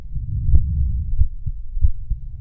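Heartbeat sound effect, loud and close, deep low thumps pulsing in an irregular rhythm, heard alone.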